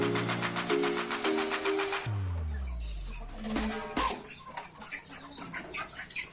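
Breeding hens in an open coop cluck and cackle up close, with a loud squawking call at first, then scattered clucks and rustling in the background.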